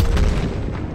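A grenade explodes in the video game Call of Duty Cold War, giving a loud, close boom with a rumbling low-end tail that fills the whole second.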